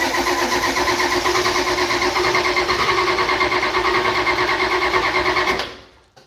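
IDI diesel engine on the Mach One cranking after glow plug warm-up, a steady rhythmic chugging starter churn that runs loud for several seconds, then cuts off abruptly, leaving quiet.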